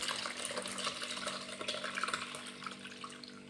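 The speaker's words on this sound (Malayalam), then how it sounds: "ഇതിലേക്ക് ഒഴിച്ചു കൊടുക്കാം." Homemade grape wine pours through a strainer in a steady, soft trickling and splashing stream that runs continuously without a break.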